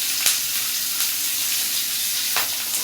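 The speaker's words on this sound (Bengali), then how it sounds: "তেল দিয়ে তারপর পেঁয়াজ মরিচ এগুলো কেটে রেখেছি, এগুলো দিয়ে দিই।" Chopped onions and chilies fry in hot oil for a pangas fish and eggplant curry, giving a loud, steady close sizzle broken by a few sharp utensil clinks, with no voices.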